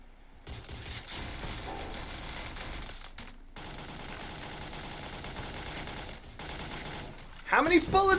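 Rapid gunfire from a gun in the video game Surviv.io, a sustained rattle of shots at modest level, briefly broken by short gaps, ending as a voice speaks.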